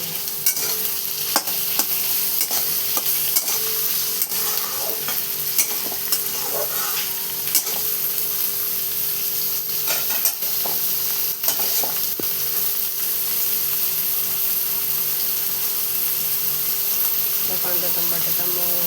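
Tomato and onion sauté in an oily pan for a ridge gourd thecha, giving a steady, close sizzle throughout with frequent light clicks and scrapes of stirring, no talk.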